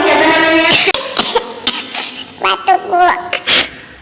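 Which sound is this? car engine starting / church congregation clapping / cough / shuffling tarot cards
cough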